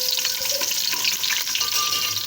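Whisked yogurt hits a hot pan of chicken qorma and sizzles loudly, a dense crackling hiss with faint stirring and clinks, continuous and close with no voices.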